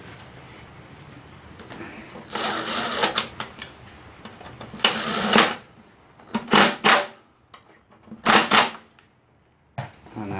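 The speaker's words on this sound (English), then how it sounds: "And then I'm just going to tighten these down" Lawnmower ignition coil bolts are tightened down with a ratchet, giving several bursts of rapid, close clicking separated by pauses and quieter handling noises, with a faint background hum.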